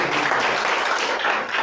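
A congregation bursts into dense, steady applause during a church service, loud and close, filling the whole short moment without a break.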